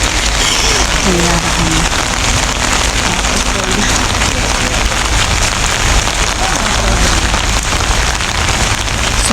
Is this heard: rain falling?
yes